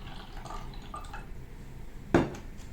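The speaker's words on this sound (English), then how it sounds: "Let's first pour some water." Water pours into a container for a honey, oil and water density experiment, giving one short, splashy burst over quiet room tone with faint clinks of glassware before it.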